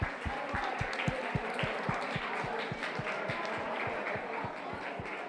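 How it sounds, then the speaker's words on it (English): Clapping from a crowd at a robotics tournament for middle and high school teams fills the hall as a broad wash of applause over a steady, thumping music beat, continuous for several seconds. "So let's give them a round of applause as well."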